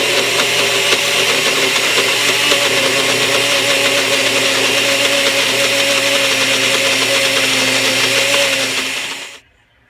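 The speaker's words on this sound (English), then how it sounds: "It goes in the NutriBullet just like a blender. We'll stick her in there and we'll grind her up a little bit." A NutriBullet blender purees taco meat with sour cream, a loud, steady motor whir with a grinding hum that runs unbroken for nearly ten seconds and then cuts off abruptly.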